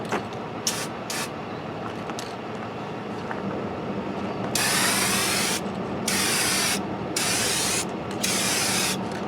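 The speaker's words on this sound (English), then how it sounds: "Whoa, that sprays a lot." Aerosol spray can hissing paint onto a cheap Stratocaster-style guitar body outdoors, several long loud bursts in the second half after quieter short puffs, with wind noise underneath.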